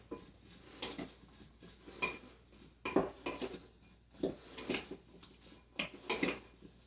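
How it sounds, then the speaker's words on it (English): Brussels sprouts being stirred to coat them in a dish, with a series of close clinks and scrapes of a utensil against the dish in an uneven rhythm, fairly quiet and with no talk. "It's a little harder to coat these Brussels sprouts, so just give it a good stir."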